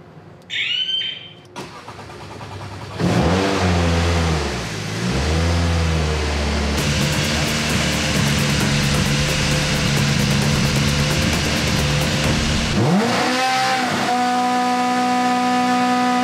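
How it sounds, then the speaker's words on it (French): A Citroën Racing car sounds a horn, then its engine cranks and fires, settling into a loud, steady idle with brief revving swells and a final blast near the end. "je vais klaxonner."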